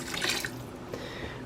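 Apple cider vinegar is poured into a pot of turkey bones and water, a brief liquid splash and trickle up front, then a soft drip, quiet and alone.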